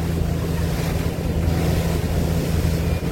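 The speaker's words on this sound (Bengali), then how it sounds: "আমাদের লঞ্চ বেশ দ্রুত গতিতে চাঁদপুর লঞ্চঘাটের দিকে এগিয়ে যাচ্ছে।" A fast passenger launch races along a river toward Chandpur launch ghat, with a constant loud wash of rushing water, heavy wind buffeting the microphone and a low engine drone underneath, all without pause.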